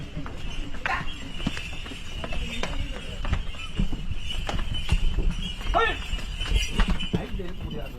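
Hard hoof clops of a temple cow climbing the stone steps at Chennimalai Murugan temple while carrying holy water, irregular close knocks over steady outdoor noise, with voices talking throughout.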